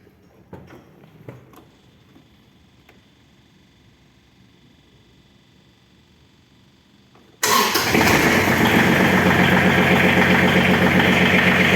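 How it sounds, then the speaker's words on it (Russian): An ISEKI SIAL 253 Japanese mini tractor sits quiet with faint handling noises for about seven seconds, then its engine abruptly fires and settles into a loud, steady, rattling idle close by. "Сейчас попробуем трактор запустить и послушать, как он работает."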